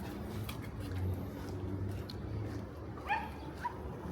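A dog on a Brooklyn street in Williamsburg gives a few short whimpers and yips at mid-distance over steady street noise.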